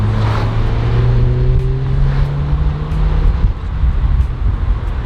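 A Mazda Mazdaspeed 3 driving under turbo boost produces a loud, steady engine drone heard from inside the car, its tone climbing gradually with constant road and wind noise beneath.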